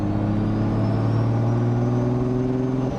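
Turbocharged VR6 engine swapped into a 1990 Mk2 Golf GTI runs steadily close by, a loud continuous low rumble with a strong droning hum and no speech.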